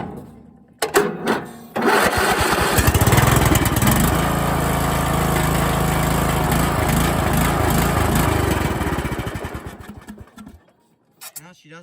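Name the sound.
cheap lawn tractor engine cranking and running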